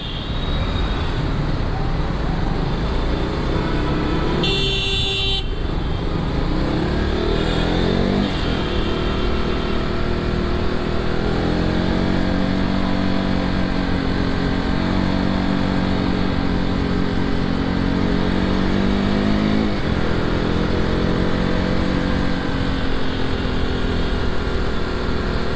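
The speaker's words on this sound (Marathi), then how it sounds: "संध्याकाळच्या टायमाला थोडं ट्रॅफिक तर भेटणारच आहे आपल्याला." Evening road traffic leaving a petrol pump in Mumbai, with motorcycles and cars revving and passing close by, a steady loud roadway din with rising and falling engine tones, and a short horn blast near the start.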